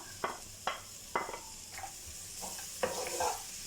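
A spoon scrapes and knocks around a pot several times in quick strokes over a soft, steady sizzle of frying ingredients for aloo gosht shorba curry.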